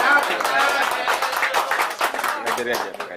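An outdoor audience at a beach legal outreach event clapping for a participant: brisk, uneven clapping from a modest crowd, mixed with chatter and voices throughout.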